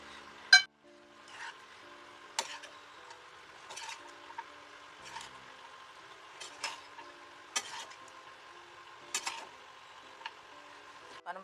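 Semiya lemon pulihora being mixed with a spoon, a series of quiet scraping and clinking strokes against the vessel at irregular intervals, faint and close.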